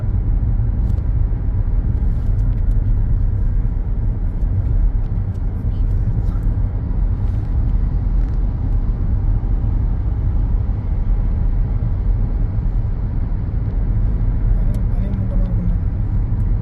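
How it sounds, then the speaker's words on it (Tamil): A car cruises along a smooth, pothole-free road in Saudi Arabia at about 5 a.m., its steady road and engine rumble continuing evenly throughout at close range. "தாஜன் வந்து வண்டி ஓட்டிகிட்டு இருக்காப்புல"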